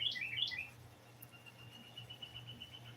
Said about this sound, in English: I can hear them talking to each other, the birds.